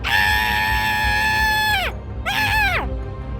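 A voice, a stepmother in a forest, screams at length, a long piercing shriek followed by a second shorter wail that bends downward, loud and close.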